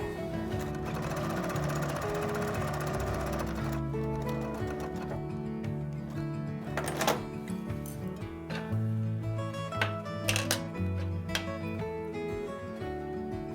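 A domestic sewing machine stitches the pocket of a fabric spin cycle caddy, running steadily and close for most of the span, with busy mechanical whir and a few pauses and clicks toward the end.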